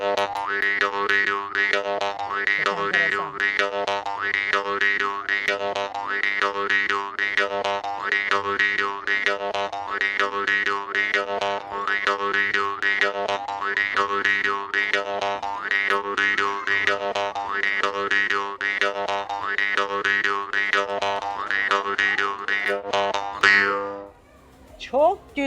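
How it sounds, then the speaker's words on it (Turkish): A jaw harp, a traditional Central Asian instrument, twangs continuously in a rhythmic, rapidly pulsing pattern over a steady droning tone, loud and close, ending with a brief stop. "Ağız kopuzu. Efendim Orta Asya'da geleneksel bir çalgı."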